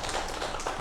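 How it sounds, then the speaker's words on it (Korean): Brief, dense studio audience applause for two guests on a Korean science broadcast, a steady wash of many hands clapping at once with no pauses. "함께해 주신 두 분에게 박수 한번 부탁드릴게요"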